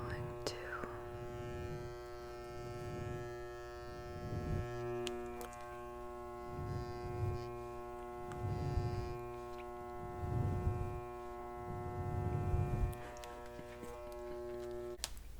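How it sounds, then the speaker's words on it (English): Electric shaver at a barber's chair in a soft, quiet setting, a steady low electric hum with rhythmic swelling passes every second or so as it moves, close and faint, with no talking. "Let's put the shaver down now."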